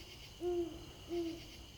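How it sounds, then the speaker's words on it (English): Two soft owl hoots, evenly spaced, from a white snow owl perched in a rookery among other owls, heard alone over a faint steady background hiss. "We can see and hear the other owls around us"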